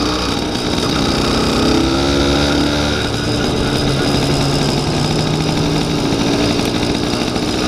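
A Yamaha YD100 two-stroke motorcycle with a Dio reed setup and a drilled exhaust idles cold while warming up, a steady close engine drone with a wavering, uneven pitch, heard alone.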